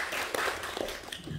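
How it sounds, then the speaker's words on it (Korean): An audience at a university admissions information session applauds as a professor of archaeology from the Korea National University of Cultural Heritage is introduced, producing a dense, steady wash of moderately distant clapping. "박수로 한번 부탁드립니다"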